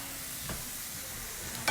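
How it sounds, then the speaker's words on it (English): Water boils in a pot for linguine pasta, giving a steady, close bubbling hiss with a couple of brief knocks or stirring sounds and no voices. "Already got my water boiling."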